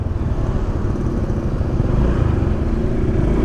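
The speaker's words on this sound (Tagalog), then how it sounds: "Tahimik ng exhaust nya guys." A 2020 Honda motorcycle running through its quiet stock exhaust, a steady, loud, close engine drone that holds without pause.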